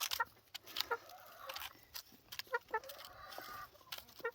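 Backyard poultry in a Bulgarian garden cluck and chatter while pecking at a hanging cabbage, giving several short, fairly close, moderately quiet calls with brief pauses between them.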